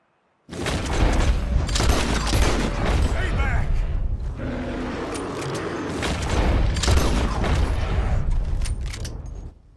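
Explosive rounds fired in Red Dead Redemption 2, a string of loud booming blasts with mechanical clatter between them, close and dense throughout, with a voice talking over parts of it.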